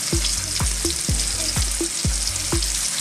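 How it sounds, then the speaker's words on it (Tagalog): Chicken pieces half-cook in hot oil in a wok for sweet and sour chicken, sizzling steadily and loudly while a utensil stirs with regular, rhythmic scraping knocks. "Iprito na po natin yung ating chicken."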